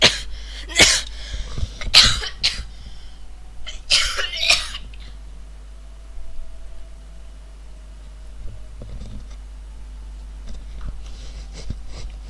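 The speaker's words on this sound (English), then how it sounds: "coughing again." Several harsh coughs burst out in a cluster near the start, then fade to quiet with faint background hum and occasional soft sounds.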